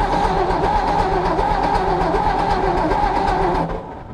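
A 1954 Ford truck engine cranks steadily with a rapid, even rhythmic chugging, close and loud, trying to start, before the sound cuts off near the end.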